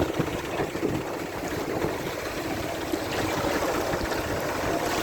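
Flood water rushing across the Kodad–Khammam road in heavy rain, a steady loud broadband wash without voices.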